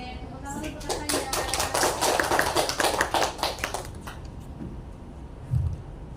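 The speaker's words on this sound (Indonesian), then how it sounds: "tepuk tangan untuk kakaknya" A class claps for a fellow student in a dense, rapid burst of applause lasting about three seconds, then tapers off into quieter room sound with a little background talk.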